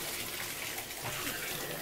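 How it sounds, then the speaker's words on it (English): A bathtub tap runs hot water at strong pressure into an apartment tub, a steady, dense rushing hiss that holds evenly throughout, fairly close and with no talk over it. "And you can hear just terrific water pressure."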